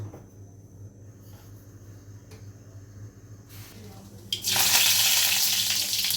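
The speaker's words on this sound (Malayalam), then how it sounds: "ഫ്രൈ ചെയ്തതിൻ്റെ ബാക്കി എണ്ണ അതിനകത്തൊട്ടി ഇത്ര എണ്ണ മതിയോ കുറച്ച് കടുക് ടപ്പണേ ടപ്പണേ അങ്ങോട്ട് പൊട്ടു" Mustard seeds hit leftover frying oil and start a loud, close, steady sizzle with fine crackling, after a few seconds of quiet kitchen hum.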